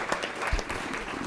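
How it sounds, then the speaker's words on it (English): A short burst of clapping rises from the audience at a school district board meeting, applauding high school students: brisk, scattered hand claps lasting about a second. "These guys deserve a clap."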